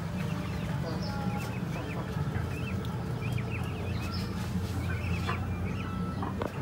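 Several chickens cluck and chatter steadily in a coop of prized fowl, a busy, continuous flock murmur with scattered higher calls and a low background drone.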